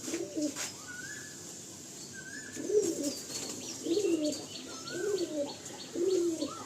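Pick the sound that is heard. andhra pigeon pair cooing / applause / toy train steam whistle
andhra pigeon pair cooing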